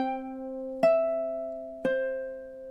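Ukulele playing two slow measures of a lullaby: sustained plucked chords ringing alone, with two fresh strums re-attacking the sound about a second apart.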